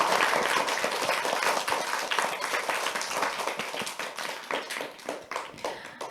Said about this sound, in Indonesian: Kak Santi mau lihat dulu tepuk tangan yang meriahnya